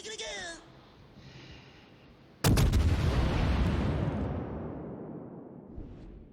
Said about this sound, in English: I didn't get a fire on that salvo, but I'm just trying to get consistent shots off